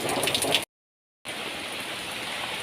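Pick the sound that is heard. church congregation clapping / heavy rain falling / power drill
heavy rain falling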